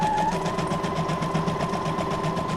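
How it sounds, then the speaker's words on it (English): A Brother SQ9185 computerized sewing machine stitches steadily up close, a continuous fast rhythmic whirring hum with a rapid needle pulse throughout, no talking. "I'm using the number 25 again on my brother SQ9185 computerized sewing machine"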